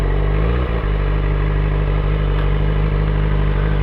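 A supersport motorcycle engine idles close by with a steady, loud low drone and a brief clatter early on.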